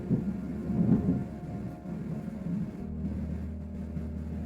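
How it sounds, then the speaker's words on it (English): Close thunder rumbles in a low, rolling swell that peaks early, then fades into a steady deep drone, with no voices. "that thunder was very close"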